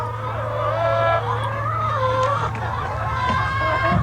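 Chickens on a farm cluck and chatter continuously, several birds close by with rising and falling calls over a steady low hum.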